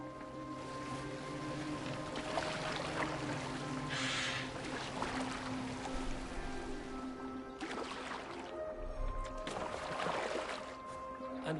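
A boat moving through water in the video game Assassin's Creed Valhalla, with soft continuous lapping and splashing and occasional louder swells over a low ambient bed.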